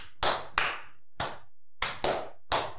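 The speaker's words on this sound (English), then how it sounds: "how cool would it be to get 100 people to do the slow clap" Slow, deliberate hand claps from a small group, six sharp loud strikes with uneven pauses between them, no talking.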